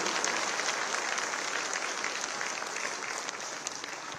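Sustained applause from a large crowd at the opening ceremony of the 2025 Khadi festival in Lucknow, dense steady clapping at moderate loudness throughout, with no talking.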